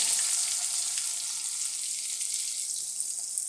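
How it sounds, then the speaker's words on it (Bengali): Potatoes fry in hot oil in a pan with panch phoron, a steady broadband sizzle that stays loud and even throughout, with no voices. "আলুটা একটু ভাজা ভাজা হোক"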